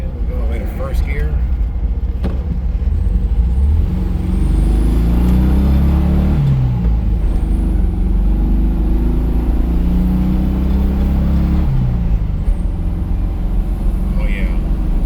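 A freshly restored 1969 Volkswagen Karmann Ghia drives along as it is downshifted toward first gear, its low engine hum rising and falling steadily, close and loud under a voice talking throughout.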